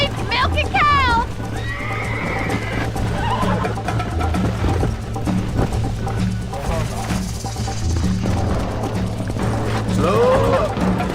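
Horses in the video game Red Dead Redemption neigh and whinny in short high bursts over a low background hum, with hoofbeats and game dialogue voices running underneath.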